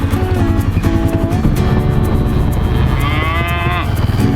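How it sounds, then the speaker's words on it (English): Cattle moo loudly and repeatedly, several overlapping calls close by with steady low background noise. "You kind of hear them. They're mooing at me."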